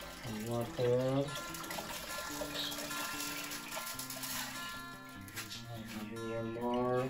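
Water is poured into a home fish tank during aquarium cleaning, a soft trickling and splashing that sits low under people talking and music.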